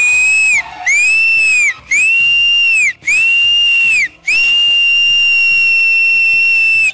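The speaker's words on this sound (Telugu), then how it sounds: "విజిల్ కొట్టాల్సిందే" A loud, piercing whistle blows on stage in five long shrill blasts separated by short breaks, the last one held longest, with a faint crowd underneath.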